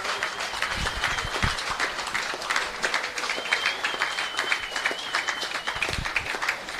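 Football crowd at a 2019 FFA Cup match between Albion Park City FC and Coniston FC applauding steadily, a broad wash of distant clapping with a faint whistle-like tone, sustained over several seconds in an open ground.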